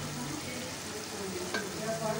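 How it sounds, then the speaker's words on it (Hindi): Minced meat (qeema) frying in oil in a pan, a continuous moderate sizzle with some stirring scrapes, heard alone without talk. "अब दो मिनट के लिए इसकी भुनाई कर लेंगे।"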